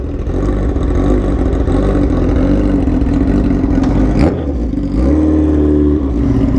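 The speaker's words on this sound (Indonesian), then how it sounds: "Gila itu suara knalpot, gila." Loud, continuous engine roar from a sport motorcycle's aftermarket exhaust, revving hard with a rising sweep near the four-second mark and a shift in tone afterward, close and steady throughout.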